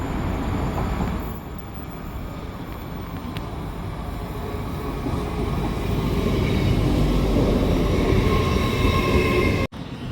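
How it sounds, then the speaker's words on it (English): Continuous low rumble of a train station platform, a train running nearby with steady mechanical drone that slowly builds, and a brief dropout near the end. "we're on the platform, currently waiting for a train"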